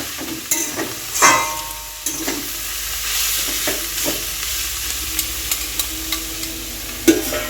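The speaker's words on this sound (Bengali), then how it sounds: "বসিয়েছি মূলো শাক ভাজা" Radish greens frying in a pan produce a close, steady sizzle broken by scraping stirs and clacks of a spatula against the pan, with no voices.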